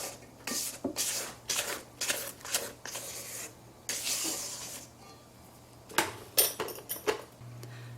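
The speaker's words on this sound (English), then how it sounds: "Mix it up. Scrape the sides and bottom." Batter for baked pumpkin spice doughnuts is stirred and scraped around a bowl in a series of close, rhythmic rubbing and swishing strokes separated by short pauses, over a faint steady hum, with no voices.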